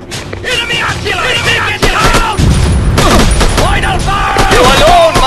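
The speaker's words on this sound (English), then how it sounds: "Enemy artillery!" Enemy artillery and dense gunfire roar in a mobile war game, with loud booms and rattling volleys rolling on one after another while shouted battle voices rise over the din.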